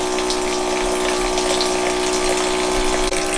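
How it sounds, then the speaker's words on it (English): A water dispenser pumps spring water into a bowl, producing a steady gushing pour that stays constant and close throughout, with a low mechanical whir beneath the splashing flow. "This is the lazy way of filling up the bowl with spring fresh water."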